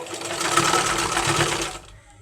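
A sewing machine stitching the shoulder seam joining the front and back panels of a blouse, a close, steady whirring run of rapid stitching lasting about two seconds before stopping.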